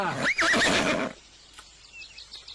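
A cartoon horse lets out a loud, close whinny that wavers up and down for about a second, followed by fainter rustling and chirps.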